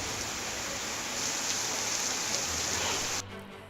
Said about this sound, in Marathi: दिवसरात्र मुसळधार पावसामुळे जिल्ह्यातील नदी आणि धरणं ओसंडून वाहू लागली आहेत